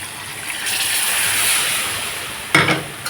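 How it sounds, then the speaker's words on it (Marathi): A glass of water splashes and gushes into a hot pan of kadai paneer, a rushing pour that swells and then ends with a short clatter. "एक ग्लास पाणी मी घालून घेते"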